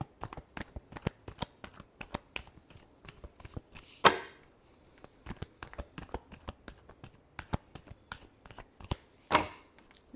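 Tarot cards being shuffled by hand, a rapid series of crisp, close taps and riffles in an uneven rhythm, with two louder sharp snaps of the deck standing out.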